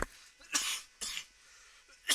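Three harsh, close coughs from one person during a Doom map session, spaced roughly half a second apart, each a short breathy burst with quiet pauses between and no talking.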